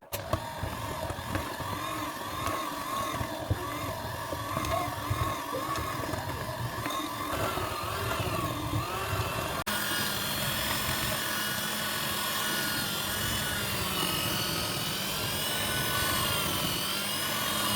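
A Thermomix mixer kneading gingerbread dough gives off a steady, loud motor whir and churning that runs continuously throughout, with a shift in tone partway through and no talking.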